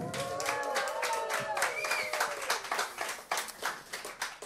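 Audience clapping at a church service, rhythmic applause from a crowd with voices mixed in, growing more distinct toward the end.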